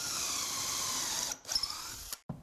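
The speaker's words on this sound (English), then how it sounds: "I'm going to clamp once and drill twice on the A and the B slot" A power drill bores pocket screw holes into a shelf held in a jig, a steady close whirring that stops, then short bursts and a final rattle.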